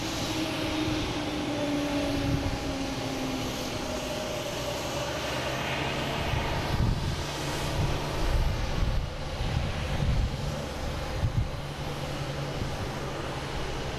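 A Delta Embraer E175 jet takes off at Boston Logan, its steady engine roar filling the scene with rising and falling tonal whine, fairly near and loud, with no voices.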